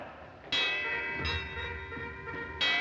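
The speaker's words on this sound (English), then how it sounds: "Ring the alarm bell!" An alarm bell rings out in three separate clangs, each bright resonant tone hanging and slowly fading before the next strike, in a 1937 recording.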